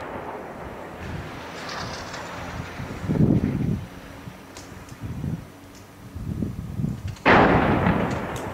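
Heavy-weapons shelling of Rastan city in Homs, Syria, in 2012: several distant, heavy booms and rumbling blasts roll out at irregular intervals over wind noise, with the loudest burst near the end.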